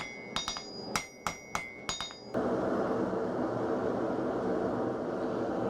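Hammer blows ring out on steel against an anvil while a knife is forged: about six sharp metallic strikes with bright ringing overtones, then a steady loud roar of the forge or blower takes over.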